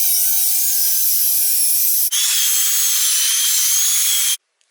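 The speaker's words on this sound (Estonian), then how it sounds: "Puidud said lihvitud." A power sander grinds steadily across wood in a continuous high-pitched whine that shifts pitch once midway, loud and close, then cuts off abruptly near the end.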